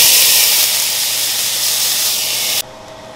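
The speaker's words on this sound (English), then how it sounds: "Now we're gonna add the onions." Onions hit a hot pan while cooking dinner, producing a loud, dense hiss of sizzling steam that holds steady and then drops abruptly to a quieter sizzle near the end, with no talking.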